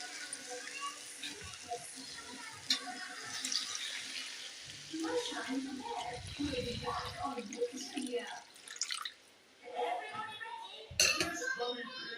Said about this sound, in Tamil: இப்போ நம்ம தேவையான அளவு தண்ணி ஊற்றியாச்சு.